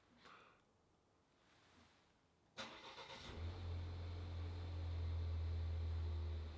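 A Volvo car's engine cranks and starts remotely after a quiet stretch with a few faint clicks, then settles into a steady, close, low idle hum.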